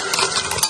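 Fried potato chips are tossed with masala in a plate, making a brief, close scraping rustle that lasts under a second, with no voices.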